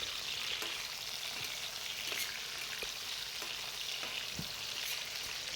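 Tomatoes sizzling in a pan of hot oil for katla fish curry: a constant, bright frying hiss with scattered small pops and crackles, steady and close, with no voices.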